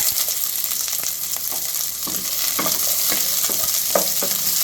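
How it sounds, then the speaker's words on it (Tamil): Shallots fry in a pan for a crab curry, with a loud, dense, steady sizzle up close and regular scraping spatula strokes every half second or so, and no voices. "சின்ன வெங்காயம் போட்டுக்கோங்க"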